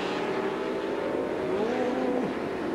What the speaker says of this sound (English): those 12-cylinder Ferraris working their way up through the field